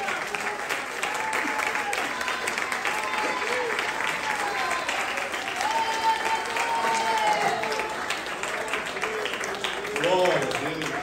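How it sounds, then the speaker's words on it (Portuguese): A church congregation claps in sustained applause while voices call out and talk over it, the clapping steady and dense throughout with a brief swell near the end. "Vamos dar a melhor salva de palmas ao Senhor"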